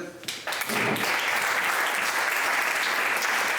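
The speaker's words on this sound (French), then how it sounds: "Emmanuel, on peut l'applaudir." Audience applause welcoming a speaker to a business talk, a dense, sustained wash of many clapping hands rising quickly after a brief spoken introduction and continuing loudly to the end.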